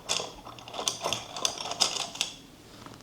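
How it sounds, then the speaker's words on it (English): A pen writing on a sticky note in a quiet room, heard close-up as a run of short, dry scratchy strokes at an irregular pace, soft and alone. "So I'll go ahead and write this down real quick."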